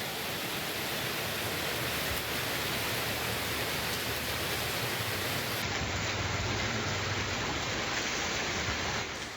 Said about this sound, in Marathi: अनेक ठिकाणी जोरदार पाऊस पडतोय